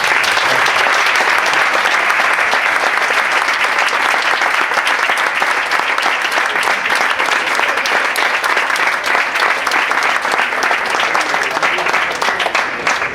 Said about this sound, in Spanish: yo creo que podemos despedir al doctor Olcina con un buen aplauso